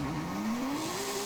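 Mercedes CLK GTR, a lightweight mid-engine rear-wheel-drive race car in Forza Horizon 5, with a steady engine drone rising slowly in pitch under a continuous wash of tire and road noise, loud and close, no talk.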